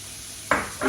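Chopped onions go into a pan holding about a tablespoon and a half of hot oil, setting off two quick, close bursts of sizzling within a second.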